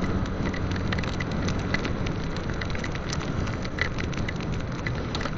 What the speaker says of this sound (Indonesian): baru hujan.